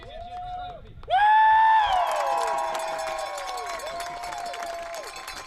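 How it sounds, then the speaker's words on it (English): Crowd cheering and applause burst out loud and sustained at a 2020 NCISAA 2A boys soccer championship trophy presentation, with horn-like tones sounding over the clapping and then easing off. "a round of applause for all our players and coaches"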